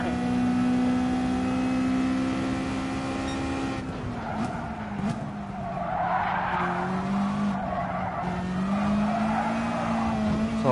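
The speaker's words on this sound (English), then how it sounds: "Nabangga tayo ng Ferrari." A Ferrari race car in Gran Turismo Sport skids and scrubs its tires after a collision, with a loud steady engine drone that dips and shifts as the tire squeal rises and fades, close and continuous.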